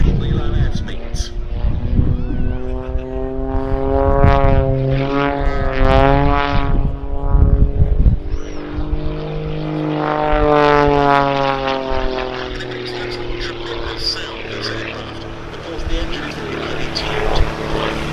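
A propeller aircraft flies a display at the Duxford summer air show, its engine drone rising and falling in pitch as it passes and banks, loud at times, under continuous commentary from a public-address voice.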